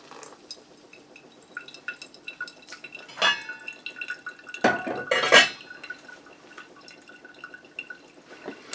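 Hot water is poured over coffee grounds in a Hario filter, a soft trickling and dripping with a few sharp clinks of a kettle against ceramic, fairly quiet and close.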